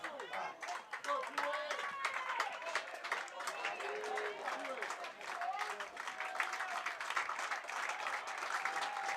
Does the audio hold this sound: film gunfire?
no